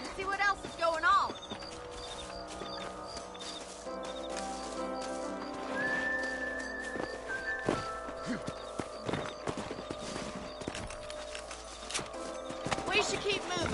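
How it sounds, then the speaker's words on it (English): Horse hooves clip-clop along a trail while riding in Red Dead Redemption, with a whinny near the start, sporadic hoof hits, a faint bird call and a speaking voice layered over the game sounds. "Let's get back on the horses and see what else is going on."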